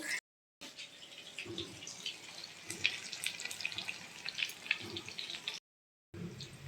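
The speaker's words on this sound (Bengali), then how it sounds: "এই দেখো এখানে আমি চিকেন পকোড়া ভেজে নিচ্ছি" Chicken pakoras frying in hot oil, a steady crackling sizzle with bright popping bursts, close and moderately loud, with brief silent gaps near the start and end.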